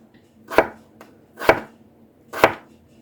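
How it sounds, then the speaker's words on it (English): A knife chops through sliced potatoes on a cutting board, cutting them into shoestring strips for a beef cabbage hash: three sharp, evenly spaced knocks about a second apart, close and clear with quiet between. "So I just sliced them first, and then I'm just going to cut them into,"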